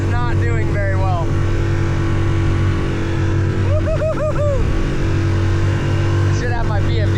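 A small outboard motor pushes a little dinghy through super choppy water, its steady loud drone and wind rush filling the whole stretch while someone talks over it in a few bursts.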